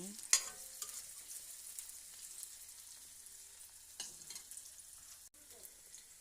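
Chicken liver and onions fry in a pan with a soft, steady sizzle, broken by a few scraping stirs of a spatula and a brief clatter near the start, with no talk.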